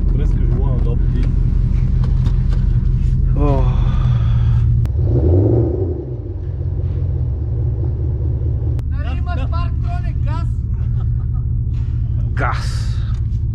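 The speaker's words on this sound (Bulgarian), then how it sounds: "Газ. Това е Мерцедес, не се кара с много газ." Mercedes S500 running with large aftermarket exhaust mufflers: a steady, loud, deep engine rumble with a brief rise in revs, while people talk over it throughout.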